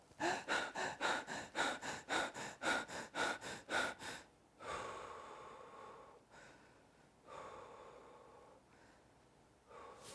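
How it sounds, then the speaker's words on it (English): Quick diaphragmatic breathing demonstrated by a person: about a dozen rapid, rhythmic sniffing breaths in a row, then several longer, slower exhales, close and loud with no talking. "Here's a diaphragmatic breath real quick."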